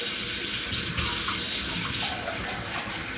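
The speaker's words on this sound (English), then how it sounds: "so we're going to fill this with water" Tap water runs steadily into a small container as it is filled in a home kitchen, a continuous close splashing gush with a hollow hiss that holds level throughout, without speech.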